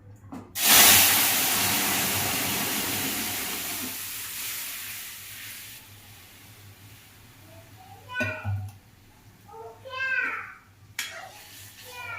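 Spices crackle and hiss loudly as they hit hot oil for tempering dal, a bright sizzle that gradually fades, with a voice chattering over the tail end.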